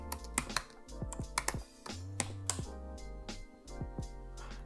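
Fingers type a git command on a computer keyboard, producing a run of crisp, uneven key clicks at close range with a few heavier thumps, likely the space bar or enter key, and no voices.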